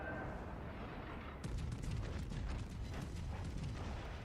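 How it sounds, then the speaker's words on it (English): Warship guns firing and shells bursting in World of Warships Legends, a sharp blast striking over steady ambient rumble, then a rapid series of crackling impacts and booms that continues to the end. "My little guns are firing, as you can see."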